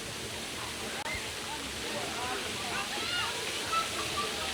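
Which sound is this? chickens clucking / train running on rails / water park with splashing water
water park with splashing water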